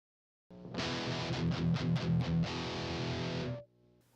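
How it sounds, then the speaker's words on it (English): Heavy metal electric guitar through active pickups, compression, distortion and EQ: a loud crushing distorted riff with a few quick chugging palm-muted hits, then a sustained chord that rings out and cuts off, played alone. "This combination of active pickups, compression, distortion, and EQ give us a crushing metal guitar tone."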